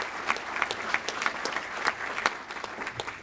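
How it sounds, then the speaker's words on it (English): Dense applause from a luncheon audience at a Rotary scholars event, many hands clapping steadily together at moderate volume for a few seconds with no voices over it. "Give her a big round of applause."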